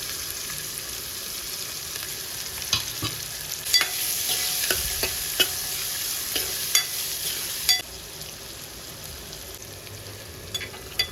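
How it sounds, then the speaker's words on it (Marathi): Hyacinth beans (val papdi) sautéing in hot oil with asafoetida, a steady close sizzle broken by sharp clicks and scrapes of a spoon stirring against the pan, with no voices. "चांगलं चांगलं परतून घेऊया"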